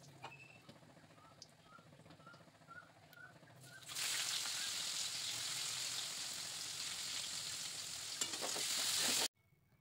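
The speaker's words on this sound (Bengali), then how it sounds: "সেই তেলে জিরে, তেজপাতা আর শুকনো লঙ্কা ফোড়ন দিয়ে পেঁয়াজগুলোকে ভেজে নেব।" Onions fry in oil tempered with cumin, bay leaf and dried chilli. A quiet sizzle with a few small clicks surges into a loud, steady hiss partway through, then stops abruptly.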